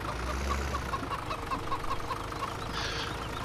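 Chickens cluck in a steady string of short calls in the Farming Simulator 2017 farm game, moderately close, over a low rumbling engine-like background hum.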